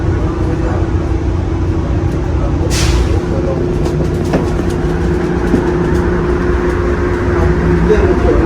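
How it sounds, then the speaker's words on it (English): An airport terminal shuttle train runs with a steady low rumble and rolling hum, with faint clicks and a brief hiss partway through, heard from inside the car. "you need to like catch this train and then go to the gate"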